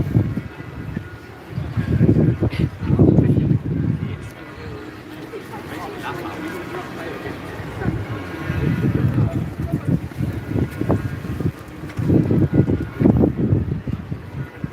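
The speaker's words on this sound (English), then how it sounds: "It's quite windy." Gusty wind buffets the microphone outdoors at a cost-of-living protest in Peterborough, with heavy low rumbling surges that rise and fall over several seconds and quieter lulls between them.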